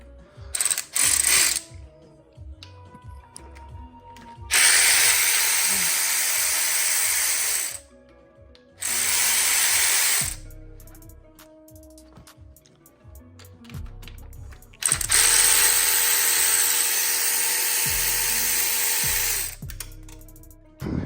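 Cordless power tool driving out T30 Torx bolts from a coolant pipe on an Audi 4.0T V8 engine during teardown: several loud, close bursts of whirring motor separated by pauses with ratchety clicks and metal handling.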